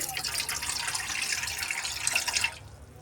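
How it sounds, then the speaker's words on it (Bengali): Water pours from a tap into a pan in a home kitchen, a steady close splashing stream that cuts off abruptly near the end. "দিয়ে দিচ্ছি জল"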